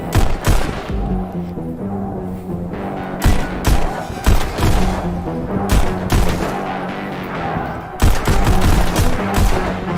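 Rapid pistol gunfire from the VR game Pistol Whip, loud repeated sharp shots in quick bursts with brief pauses, layered over game music and impacts.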